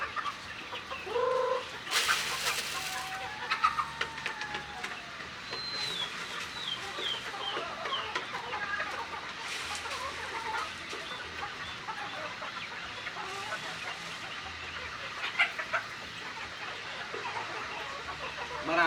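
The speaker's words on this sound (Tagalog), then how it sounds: "dito tayo sa ating mga manok na nandirito" Layer hens on a livestock farm cluck and murmur steadily close by, with scattered sharper calls and a few louder squawks over a continuous busy flock din, no talking.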